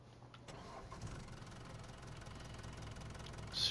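A new tractor's engine starts and settles into a steady mid-pitched running rumble in a farming video game, continuous and moderately loud with no voices over it.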